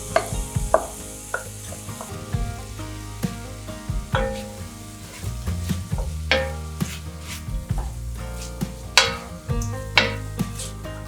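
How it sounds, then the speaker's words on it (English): Vegetables sauté in butter inside a Dutch oven, a steady close sizzle broken by repeated scraping and clinks of a utensil stirring against the pot. "add the vegetable mixture and saute until thoroughly softened"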